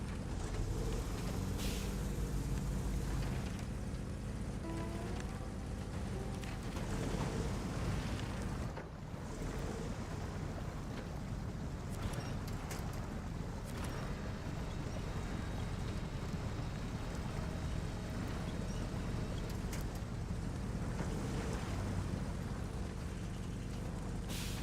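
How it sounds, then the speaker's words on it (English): A heavy off-road truck in the Snowrunner game, Don Region map, drones loudly throughout with a steady rumbling engine and continuous broadband roar, its pitch rising and falling as it revs and shifts without pause. "the revving up and down and shifting and stopping and going and stopping and going."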